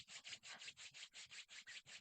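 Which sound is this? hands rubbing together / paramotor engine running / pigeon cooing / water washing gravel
hands rubbing together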